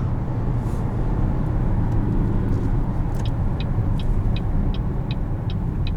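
A steady low rumble of tires and engine at highway speed fills the cabin of a 2020 Buick Encore, with a faint rhythmic ticking near the end and no voices.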